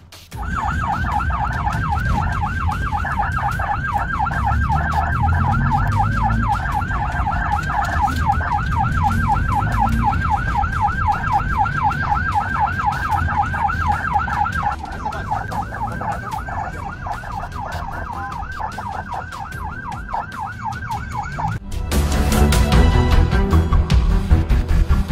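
A wailing ambulance siren cycles rapidly and steadily on the road for about twenty seconds, fairly loud over traffic rumble, then cuts off as a louder burst of road noise follows.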